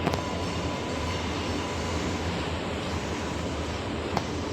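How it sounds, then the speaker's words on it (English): An MBTA Green Line train pulls into North Station on the run to Heath Street, its wheels and motors giving a steady, loud rumble that holds without a break and with no voices over it. "Here's our 4 train to Heath Street."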